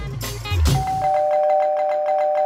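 A doorbell in a Dumb and Dumber To trailer gives a bright electronic chime that starts after a low thump and rings in repeated pulses. It is loud and near, with no speech over it.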